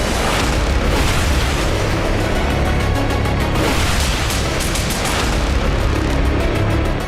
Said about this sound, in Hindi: इस एयरबेस पर एक बड़ा विस्फोट हुआ और आग लग गई